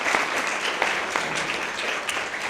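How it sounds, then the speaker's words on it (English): An audience at a panel discussion on mobile technology and family planning applauds the panel, sustained, even clapping from many hands with a few sharper individual claps standing out, no voices over it. "Give me a round of applause."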